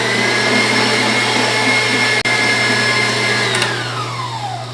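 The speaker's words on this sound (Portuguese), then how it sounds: "Nós iremos bater até ficar bem aerado," Electric stand mixer beating egg yolks with refined, sifted sugar, a loud, steady high motor whine with a constant hum, close and uninterrupted, easing slightly at the end.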